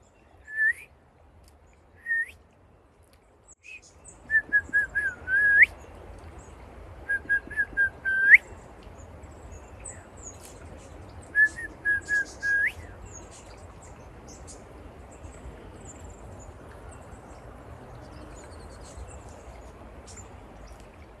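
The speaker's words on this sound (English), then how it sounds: "if you start whistling, all these little songbirds will come around" Someone whistles near-silent short rising notes outdoors, and small songbirds answer with clusters of high, sharp chirps. The calls come in several separate bursts over faint background hiss.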